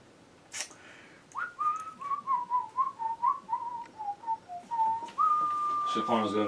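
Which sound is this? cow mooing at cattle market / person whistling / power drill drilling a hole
person whistling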